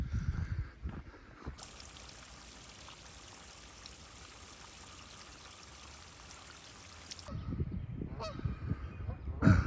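A goose honks near the Allegheny River amid a steady rushing flow of water, its loud calls breaking out at the start and again toward the end over the constant stream.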